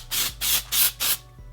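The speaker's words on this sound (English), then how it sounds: "If you're looking for like a really gritty, like texturizing dry shampoo, this is the one." Texturizing dry shampoo is sprayed onto hair in four quick, close hissing bursts with short gaps between them.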